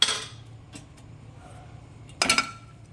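Boiled dal is poured from a pot, with a metallic clink at the start, a light tap midway and a brief scraping clatter of the vessel near the end, all fairly faint.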